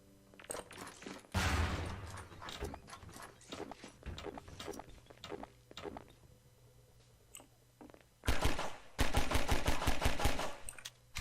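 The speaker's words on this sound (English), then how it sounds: "So I can throw a grenade in there if I wish." Gunfire and a grenade blast in a close-quarters shooter game, with scattered single shots and short bursts, then dense rapid automatic fire near the end, loud and close.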